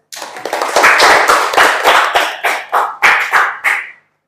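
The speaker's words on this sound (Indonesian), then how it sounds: "Tepuk tangan untuk semuanya." A classroom of students gives a round of applause during a teaching session, a dense burst of many hands clapping that swells and then breaks into several shorter rounds over about four seconds, close and loud.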